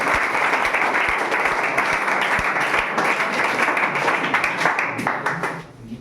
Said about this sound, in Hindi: मारिए ताली जोर।